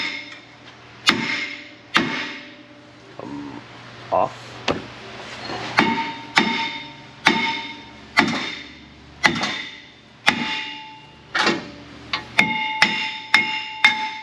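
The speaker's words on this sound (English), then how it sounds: "Hammer, we need hammer." Sharp metallic hammer blows on a rusty brake rotor of a 2015 Ford F150, struck roughly once a second in a steady series of ringing clangs, with someone talking briefly between hits.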